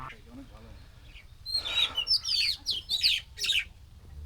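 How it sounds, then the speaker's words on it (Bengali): Birds chirp overhead in a village on a river char in Kurigram during light drizzle, several quick tweeting calls in close succession over a soft, quiet background. "উপরে পাখি ডাকছে"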